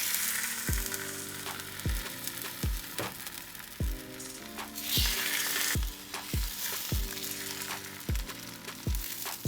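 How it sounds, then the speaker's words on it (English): Continuous sizzling of a broth-dipped tortilla frying in a pan for birria tacos, with a series of sharp clinks and taps from a utensil at a loose, irregular rhythm. "I'm gonna dip the tortilla in the broth and start frying it."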